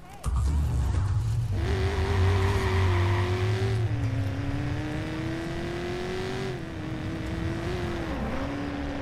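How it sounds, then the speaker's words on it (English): A Corvette engine in a video game revving up and holding a steady droning whine as the car drives, pitch rising and dipping with gear changes, loud and continuous, with faint voices underneath. "All right, I drive the Corvette."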